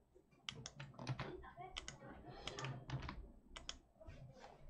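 Rapid clicking of keys on a computer keyboard, close and irregular, in short bursts with brief pauses.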